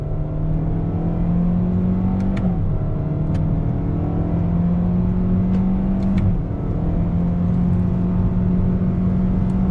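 A 2021 Toyota Corolla Hatchback accelerates on throttle in simulated second gear, its engine droning loud and steady from inside the cabin, rising in pitch with two brief dips as the transmission shifts.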